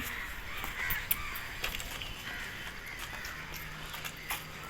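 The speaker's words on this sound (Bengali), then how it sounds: "কাকটা কি করছে দেখো মাম্মা" A crow caws several times at uneven intervals, moderately close, over a steady background hum.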